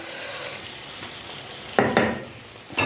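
Food frying in a pan gives a moderate, steady sizzle up close, broken near the end by a couple of sharper scrapes or stirs, and no voice is heard.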